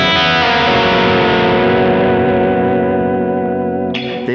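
Distorted electric guitar through LAMBERTONES Lamber'tron pickups rings out in a loud, sustained chord that slowly decays with clear note separation, followed by a brief scrape at the end.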